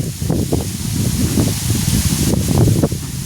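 Dry wind blows hard and gusty past the microphone, a loud continuous rushing with buffeting rumbles and rustling, and no voices.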